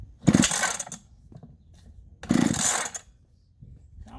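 A vintage Stihl 031 AV chainsaw is pull-started, with two loud ripping pull-cord bursts about two seconds apart, each followed by a quiet gap and faint mechanical clatter, no engine catching.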